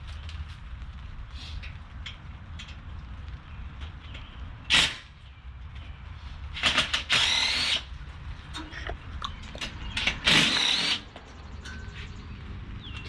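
A power tool spins bolts off a motorcycle's triple tree during a build of an RPS Magician 250, giving short loud whirring bursts, two or three near and distinct, with quieter shop noise and handling between them.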